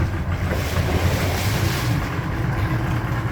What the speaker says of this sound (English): I'll put it in forward real quick, but I'll shoot quite a bit of water out.